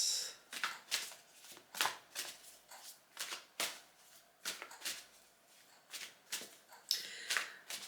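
Tarot cards shuffled for a reading: a steady run of crisp riffling bursts and soft slaps, close and fairly quiet, repeating every half second or so with no voices.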